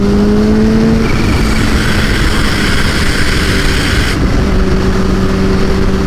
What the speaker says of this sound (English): 4th gear, and it's just like anytime you need a gap or you need to create some space, this bike will happily oblige